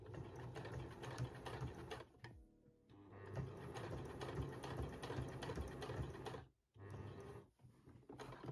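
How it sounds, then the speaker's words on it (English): A sewing machine stitches green merino wool fabric in close, rapid mechanical bursts, pausing briefly twice before resuming its steady chattering run. "Sew first on a sewing machine, then on a serger, and one more time on the sewing machine on right side."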